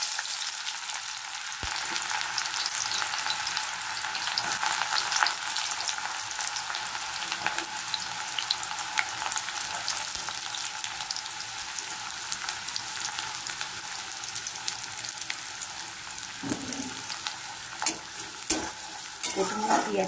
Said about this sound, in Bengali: তেল আমার গরম হয়ে গেছে। এবার আমি প্রথমে দেবো পেঁয়াজ কুচি।